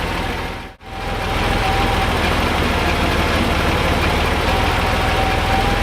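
Porsche 911 Carrera 3.2-liter engine idling while warming up, a steady low rumble that runs close and constant, broken by a brief dip near the start.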